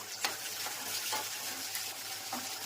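Okra tossed into hot oil with potatoes and mustard seeds, cumin and fenugreek for a Gujarati bhindi shaak, sizzling softly while a utensil scrapes and stirs in a few quick strokes.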